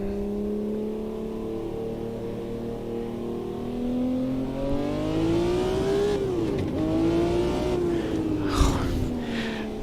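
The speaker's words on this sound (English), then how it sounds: "the BMW M1 Pro car with its glorious 6-cylinder" A BMW M1 Procar's six-cylinder engine revs through the gears at Hockenheim in the Automobilista 2 racing game, a rising and falling whine with shifts partway through, loud and steady with no talk.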